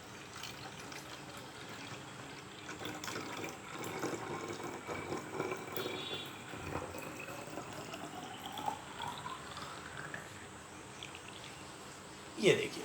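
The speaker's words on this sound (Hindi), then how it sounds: "तो मैं इसमें भर रहा हूँ पानी।" Water runs into a container from close by, its hollow splashing tone climbing steadily in pitch as the vessel fills, ending with a brief clunk.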